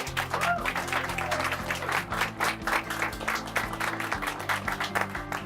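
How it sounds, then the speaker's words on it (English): Audience at an awards ceremony applauding, loud, dense clapping that continues throughout with low background music humming underneath. "let's give them all a round of applause"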